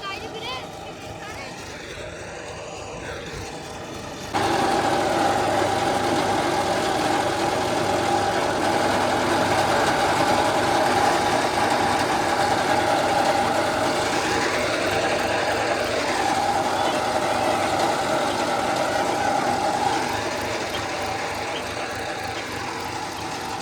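Tractor engines run during corn silage making, a loud, steady mechanical drone that swells after a few seconds and holds. Voices talk over the engine noise.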